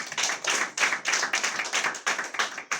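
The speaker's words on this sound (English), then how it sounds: "That needs some applause" An audience at a Ghana Journalists Association event applauding, a dense burst of hand claps that rises and falls in uneven waves throughout, fairly close and with no speech over it.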